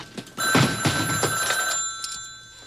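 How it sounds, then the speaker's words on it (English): A telephone bell rings in a quiet room, an electronic trill with several rapid pulses, fairly close and alone, followed by a fading tail. "Go answer your phone."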